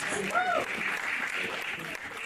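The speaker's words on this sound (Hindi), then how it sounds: "जोरदार ताली प्लीज" An audience at an Odia film event applauds, a quiet, steady wash of clapping with a voice speaking over it.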